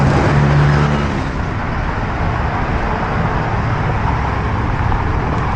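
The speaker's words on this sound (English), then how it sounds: "Chiang Mai rush hour traffic." Rush hour traffic on a Chiang Mai road with motorbikes and cars, a dense, continuous roar of engines and tyres close by, one vehicle revving near the start before the steady wash of traffic.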